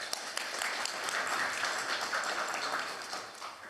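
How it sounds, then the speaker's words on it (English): Audience applause following an introduction at an Internet resilience conference session, a steady, fairly faint patter of many clapping hands lasting throughout with no clear voices. "If we could have a round of applause for him"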